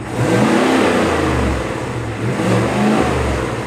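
A 6.2-litre petrol V8 in a 2025 GMC Yukon Denali revs up hard with a deep throaty growl, easing off and climbing again in repeated loud surges, close by.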